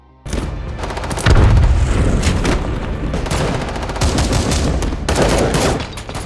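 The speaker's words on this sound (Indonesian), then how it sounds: "terjadilah aksi tembak-tembakan" Rapid bursts of gunfire from a gunfight inside a factory in an action film, loud and nearly continuous, with machine-gun rattles and heavy booming shots layered over one another.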